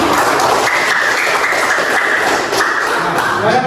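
A classroom of people claps steadily at a teaching session, a dense, loud patter of hands sustained throughout.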